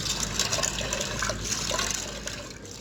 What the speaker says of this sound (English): Wash and clean all these lentils.